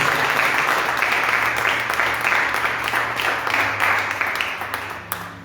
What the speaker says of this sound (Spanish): Vamos a dar un fuerte aplauso a nuestro Señor